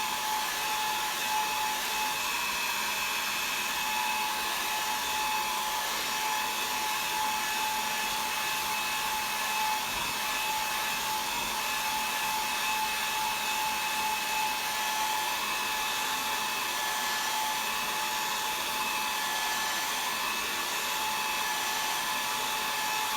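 A hair dryer blows at a stamped decorative piece in a gallery wall craft project, a loud, steady whirring hum that runs unbroken throughout with no talking.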